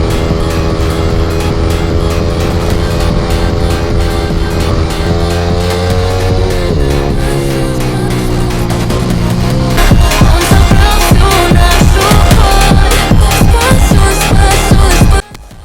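Yamaha R15 V3 motorcycle fitted with an Akrapovic R9 exhaust, ridden at full throttle on Kalsubai: a loud, close engine wail that rises and shifts, then breaks into a harsh, rapid popping rasp before cutting off abruptly.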